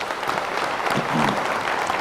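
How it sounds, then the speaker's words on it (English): An audience at a union conference applauds a panel, a steady wash of clapping from a sizable crowd filling the whole stretch. "Please again give our panel a wonderful round of applause"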